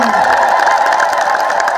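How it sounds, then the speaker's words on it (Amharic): Audience clapping and cheering at the inauguration of an Ethiopian Orthodox Medhane Alem church in Gurage, a steady, dense wash of applause from a crowd that carries on throughout without a break. "አጨብጭቡ"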